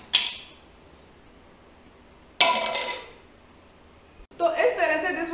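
CDs tossed from a distance onto a drinking glass in a party balancing game clatter in three separate bursts of bright clinks and rattling, each striking sharply then fading, with a voice joining the final burst.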